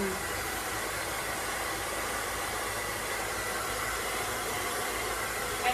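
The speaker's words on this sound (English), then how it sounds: "Using my comb and my blow dryer like a truck and trailer to really help it to smooth." Blow dryer smoothing short hair with a comb, a steady loud whooshing airflow held close and unbroken throughout.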